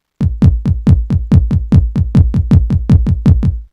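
A kick drum sample from Battery drum software is triggered about sixteen times in a quick, even rhythm, each hit a loud, punchy, booming thump with a fast decay, with no other sound.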